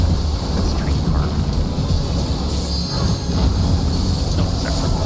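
A train car moving in the video game Final Fantasy XIV: Dawntrail, heard as a loud, continuous rumble of rolling wheels with faint squeals and rattling, steady throughout.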